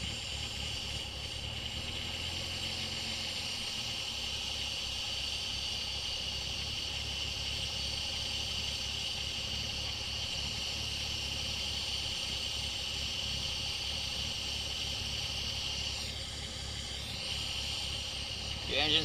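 A VW MkIV with a VR6 engine idles while drawing in Seafoam cleaner, giving a steady droning hum overlaid with a constant airy hiss that wavers briefly near the end.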